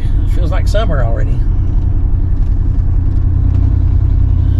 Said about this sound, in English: Great driving this old truck.